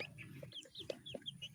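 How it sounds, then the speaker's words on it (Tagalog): Chickens cluck and chirp close by at feeding time in a busy scatter of short calls, with faint farmyard rustling underneath and no talking. "Yan po ating mga alagang manok"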